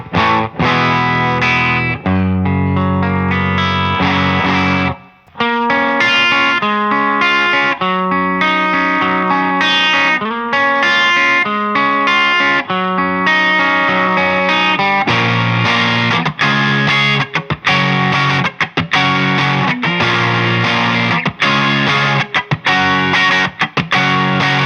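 Electric guitar played through a VS Audio JangleMaster AC30-style pedal, clean tone on the bridge pickup just starting to break up, with strummed chords and single notes ringing continuously, one brief pause near the start.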